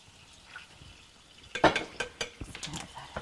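Spoon stirring Worcestershire sauce into a sauce for Hawaiian ham and cheese sliders, a series of close clinks and scrapes against a bowl starting after a quiet moment.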